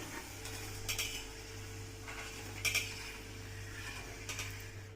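Fried peanuts scooped out of a hot pan while making murmura chivda; three faint, brief metallic clinks and scrapes of a utensil spaced about two seconds apart over a low steady hum.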